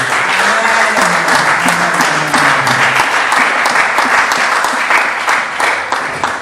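A church congregation applauds and acclaims God with loud, sustained clapping, while voices rise and cheer through the crowd over several seconds before the noise starts to fade.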